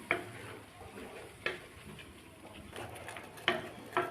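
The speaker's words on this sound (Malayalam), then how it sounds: "അതിലേക്ക് അരച്ച് വെച്ചിരിക്കുന്ന മസാല ഒഴിച്ചു കൊടുക്കുക. നല്ലവണ്ണം ഇളക്കി വെക്കുക." Ground masala is stirred into chicken pieces in a pot for Chettinad chicken curry, quiet soft scraping with a few sharp spoon knocks against the pot.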